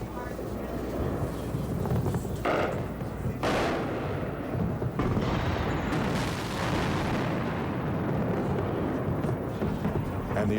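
Heavy rumbling blasts and booming explosions from a bombing strike on Baghdad, Iraq roll continuously, loud and dense, with a voice speaking over the din.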